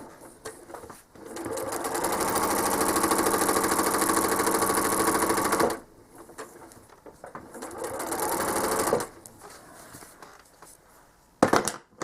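A sewing machine quilting and stitching along a ruler runs in two steady, loud bursts, the first long and even, the second shorter after a brief pause, then stops with a few light clicks.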